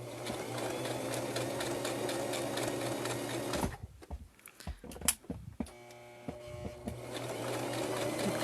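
A sewing machine stitches down the crease of a homemade fabric face mask, running steadily and close, then pausing briefly with a few small clicks before starting up again.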